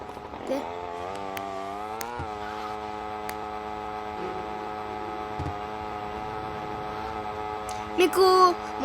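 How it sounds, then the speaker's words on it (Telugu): Motorcycle engine from GTA Vice City played on mobile, with a Yamaha-like tone: a steady, droning harmonic hum that holds level throughout, with a brief revving burst near the end. "ఇలా కొంచెం సౌండ్స్ యమహా బండిలా ఉంటుంది."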